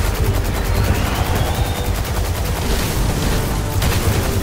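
Gunfire in Destiny 2 comes as rapid, dense automatic bursts with booming low thuds, loud and continuous throughout.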